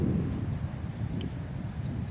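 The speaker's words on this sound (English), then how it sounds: "It's like drizzling," Light drizzling rain falls steadily outdoors near a street, a soft continuous hiss with a low rumble underneath and no voices.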